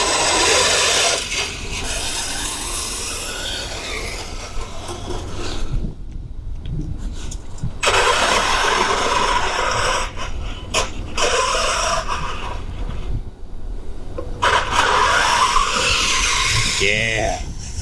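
A custom 1/10 scale RC mud truck with rear steer drives in bursts, its electric motor whining and tires scrabbling and skidding nearby, with brief pauses between runs and voices talking over it.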